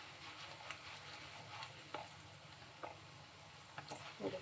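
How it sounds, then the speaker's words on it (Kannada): Chana dal and urad dal fry in oil for raw mango chitranna, making a soft, quiet sizzle broken by scattered stirring clicks and scrapes. "ಅದು ಕಡಲೆಬೇಳೆ ಉದ್ದಿನಬೇಳೆ ಎಲ್ಲ ಫ್ರೈ ಆಗಿದೆ, ಸಾಕು."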